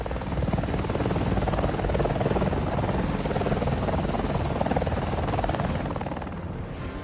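Apache attack helicopter in flight, its rotor beating in a rapid, steady chop under a loud engine whine, close and sustained before fading a little at the end.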